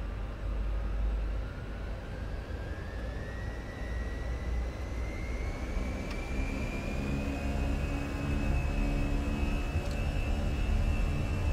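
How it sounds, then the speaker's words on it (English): Airbus A320 engines spooling up for takeoff in the Fenix flight simulator, a deep rumbling roar with a whine climbing steadily in pitch, growing slightly louder throughout, no voices. "Engines look good, and take off."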